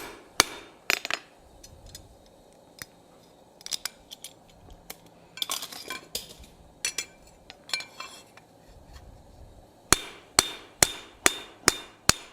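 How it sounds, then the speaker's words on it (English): Sharp metallic hammer strikes riveting steel ring out in scattered bursts, then a quick, evenly spaced series of loud blows near the end, with quiet gaps between. "I will put a rivet in that hole and rivet it down tight"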